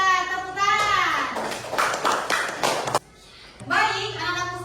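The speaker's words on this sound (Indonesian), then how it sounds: "Pintar, tepuk tangan." Children in a classroom clap hands together in a quick burst of about eight sharp claps, close and clear, framed by a voice speaking before and after.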